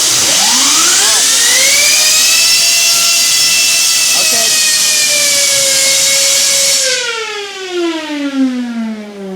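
Ultra high pressure water jet spinning a magnesium piece, a loud rising whine that climbs steeply, holds a piercing siren-like pitch for several seconds, then sweeps down as it slows, over a constant rushing hiss.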